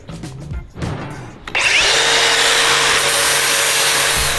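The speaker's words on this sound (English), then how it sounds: "grinding off all of the paint on the areas that we're gonna weld" A power grinder strips paint off metal on a lawn mower camper build, starting up after some quieter scraping and then running loud and continuous with a harsh, steady abrasive roar close by.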